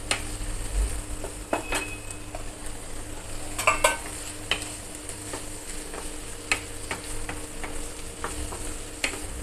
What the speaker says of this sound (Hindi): अब डाल देंगे हरी मटर, दो तीन मिनट इनको चलाएंगे ऐसे।